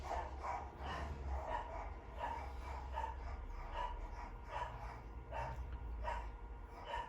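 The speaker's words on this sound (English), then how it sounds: "I don't really hear the doorbell, but I hear all the dogs barking." Several dogs bark repeatedly at a delivery arriving at the front door, sharp rhythmic barks at a distance over a low background rumble.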